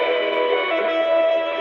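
CBS Radio Net Alert chirp signal, a dense buzzy electronic tone with a steady, slightly wavering pitch held for under two seconds, loud and alone.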